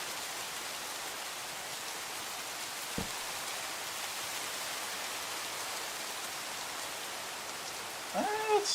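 Steady rain from the game Minecraft hisses evenly throughout, a dense broadband wash with one brief click near the middle and a faint tonal chime at the very end.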